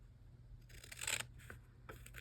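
Scissors trim collectible photo cards for a K-pop binder, giving a couple of quiet, crisp snips close up against a faint background hum.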